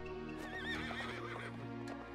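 A horse in a video game whinnies in a long, wavering neigh over a steady background hum, fairly faint, with a brief clatter toward the end.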